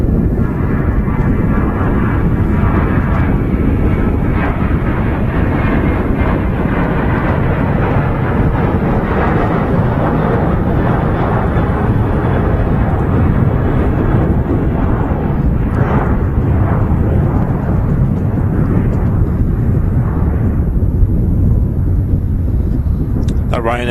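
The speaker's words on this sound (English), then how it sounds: "Ryanair just aborting its landing" A Ryanair airliner going around after aborting its landing at Manchester Airport, a loud, continuous roar of jet engines that holds steady throughout, with voices faintly beneath.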